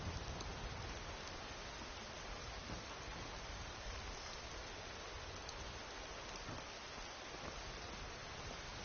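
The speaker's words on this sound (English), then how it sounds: "Just keep sitting in the rain." Steady rain falling in a video game, a constant even hiss of dense drops at an unchanging level, heard alone without voices.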